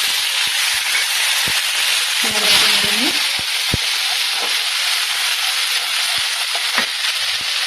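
Panch phoron spices with asafoetida sizzle in hot oil in a steady, bright hiss, broken by sharp clicks of a spoon stirring against the pan and a faint murmur of a voice.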